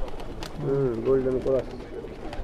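Pigeon cooing, a Golden Cross bird shown at a champion racing-pigeon loft, a few rolling coos close by with someone talking over them.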